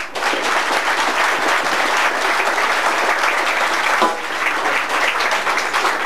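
An audience at a Pferdemarkt morning concert in Gaildorf, Germany, gives a live blues band a loud, sustained round of clapping that runs the whole time without a break.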